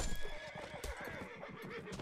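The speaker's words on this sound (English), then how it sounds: "Kill the horse, try to kill the horse." Horses whinny and hooves clatter amid a chaotic battle in a Napoleonic-era musket combat game, loud and dense with layered background noise.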